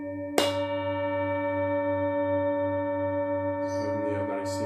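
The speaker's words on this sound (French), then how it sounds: "Et je vais jouer le gong. Ça s'appelle le gong, le bol tibétain." A Tibetan singing bowl is struck once, giving a sharp attack followed by a long, steady, shimmering ring that sustains without fading, with faint rustling later.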